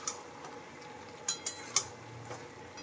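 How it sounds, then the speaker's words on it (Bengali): A metal lid lifts and a spoon knocks and scrapes in a pot of chicken curry, a few quiet, sharp clinks over a faint low simmer, no talking. "মাংসটা ঢাকা তুলে দেখছি, ভালো করে নাড়িয়ে দেব"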